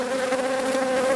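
Honeybees on a hive frame make a close, steady, dense buzz with a sustained droning hum, continuous and unbroken, with no voices.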